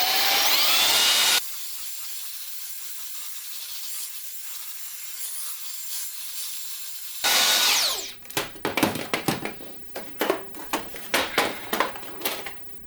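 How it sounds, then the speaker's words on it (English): A Roborock robot vacuum runs as it cleans the brushes of another Roborock (S7 MaxV). A loud motor whir cuts in, drops to a quieter hum, surges again, then breaks into irregular close rubbing and scraping bursts. "I'm using a Roborock to clean the Roborock"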